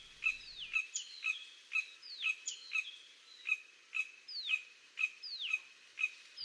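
An Indian yellow tit calls in Western Ghats hill forest, repeating clear, sharp, downward-sweeping notes about twice a second. The calls are close and prominent against a quiet background.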